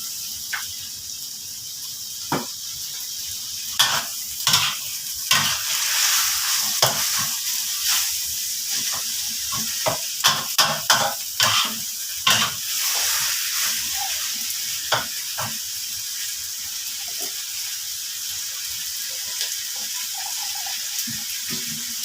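Spicy pork leg being stir-fried in a pan with red curry paste hisses in a loud continuous sizzle, broken by repeated sharp scrapes and clacks of the spatula in irregular bursts, with no speech.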